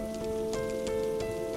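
Rain falling as an animated story sound effect, a steady patter of drops with a few sharper ticks over a sustained tonal hum, even in level throughout and with nobody talking.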